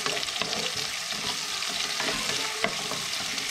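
Chopped onions sizzle and crackle as they fry in a pan before meat is added, a steady close frying hiss with occasional stirring scrapes.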